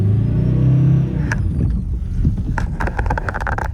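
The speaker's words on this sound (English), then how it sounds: "Just like gently push the gas down and gently let the clutch up at the same time" A stick-shift car pulls away as a 12-year-old learner eases the clutch up: a steady engine rumble at first, then rougher rolling and wind noise with scattered knocks and clunks.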